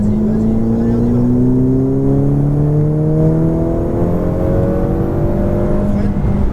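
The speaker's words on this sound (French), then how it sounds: "Et on commence à accélérer progressivement." A Ferrari F8 Tributo accelerating on a racetrack, its engine note rising steadily in a loud, close, continuous drone from inside the car, with an instructor speaking over it.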